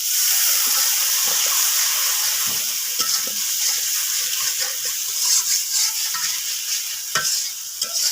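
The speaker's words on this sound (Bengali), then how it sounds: "মশলা ভালো করে কষানোর জন্য একটু পানি দিয়ে দেবো।" Water splashes into ground spices frying in a pan for a bottle gourd and snakehead fish curry, setting off a loud, steady hiss of sizzling with stirring scrapes throughout, no talking.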